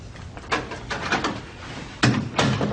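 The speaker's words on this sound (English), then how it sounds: "Close the door, sit down." A door in a police station office bangs shut twice in a short span, two solid thumps over faint room tone with no speech.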